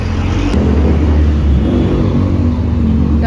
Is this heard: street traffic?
yes